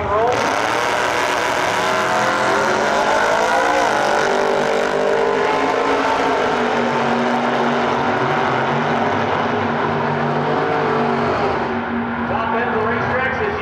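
Race cars roaring down a drag strip at full throttle, a loud sustained engine howl that climbs and shifts, then fades as they pass. A track announcer talks over the noise.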